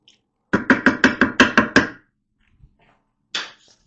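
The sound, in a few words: stirring macaroni and seasonings in a Ninja Foodi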